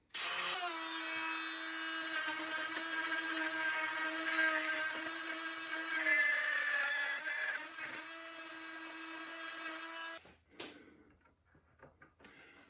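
A drill bores a recessed pocket into a wooden chair leg during a dowel repair. It is a steady, loud, high-pitched whine that runs for about ten seconds, then cuts out and leaves quieter handling noises.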